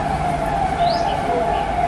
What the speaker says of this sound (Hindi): ये देखिए, ये एम्बुलेंस का आवाज़ ज़्यादा है।